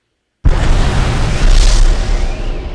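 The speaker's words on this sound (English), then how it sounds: "It's an absolutely huge sounding explosion, which is good for that very large mech robot" A huge, booming game sound effect of a large mech robot being destroyed erupts abruptly after a moment of silence, then sustains as a dense, rumbling roar of debris that barely fades.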